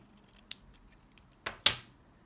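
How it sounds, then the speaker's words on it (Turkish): Scissors cutting organza ribbon: a few sharp, close snips spaced apart, ending in a longer, louder cut that trails off, in an otherwise quiet room. "şimdi göz kararı şuradan kesip önce bir bakalım"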